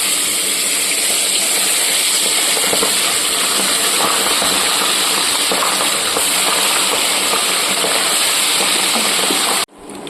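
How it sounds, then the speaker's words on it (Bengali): Pabda fish fry in hot oil with a loud, dense, steady hiss and crackle close by, cutting off abruptly just before the end. "এবার পাবদা মাছগুলোকে আমি ভেজে নিচ্ছি।"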